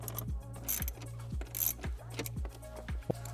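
A hand tool drives self-tapping screws, metal into plastic, during a dashboard screen install in a 2012-2015 Lexus LX, giving a quiet series of regular ratcheting clicks about every half second with no talk.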